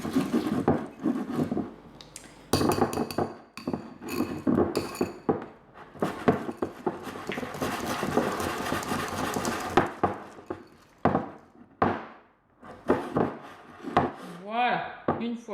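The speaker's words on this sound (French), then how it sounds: "J'ai pris ma petite cuillère magique, toujours, et je viens attendrir et mélanger." A spoon works mascarpone and sugar in a bowl, scraping and clinking against the sides in irregular close strokes with short pauses between bursts.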